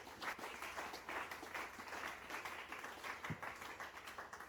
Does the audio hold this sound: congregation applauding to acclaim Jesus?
yes